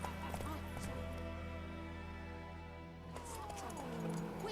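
Roach the horse galloping through White Orchard in The Witcher 3, steady clip-clop of hooves with a brief whinny, set against continuous game music and ambience with a voice nearby.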